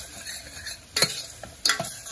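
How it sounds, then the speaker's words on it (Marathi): Spiced masala frying with a little water in a pan while sprouted moong and matki are readied for misal, giving a soft sizzle under two sharp spoon scrapes and clinks against the pan. "थोडं पाणी ॲड करून फक्त मसाला थोडासा आपण छानपैकी फ्राय करून घेऊया।"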